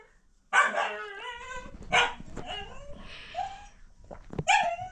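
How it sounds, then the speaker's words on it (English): A pet dog at a villa gives several sharp, loud barks and yips at close range, some trailing into whimpering whines, in bursts separated by short pauses, with no talking. "You heard my dog?"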